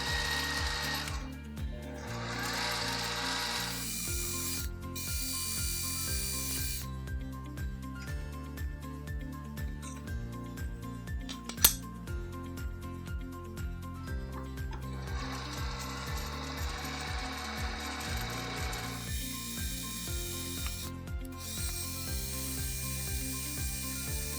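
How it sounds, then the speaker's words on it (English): A drill on a mini lathe setup bores holes through a DRO mounting plate with a steady mechanical whir and a repeating gear-like rhythmic churn, continuous for over twenty seconds, with one sharp click midway. "Once again, on this part, I need to drill 4 holes in total"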